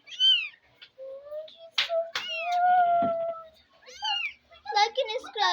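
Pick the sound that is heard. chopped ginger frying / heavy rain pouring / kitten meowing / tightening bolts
kitten meowing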